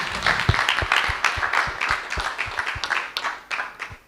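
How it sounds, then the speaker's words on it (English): A conference audience at a university main stage applauds, with scattered distinct claps over a wash of crowd clapping, moderately loud and steady for a few seconds. "I would like to invite everyone to give a big round of applause for Vukosi Marivate from University of Pretoria."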